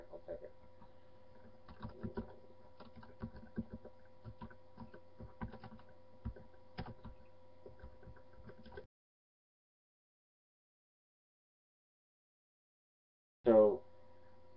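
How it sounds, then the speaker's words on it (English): Computer keyboard typing in short uneven bursts for about nine seconds, fairly close and moderately loud, then silence before a brief voice near the end. "Here, I'll type it."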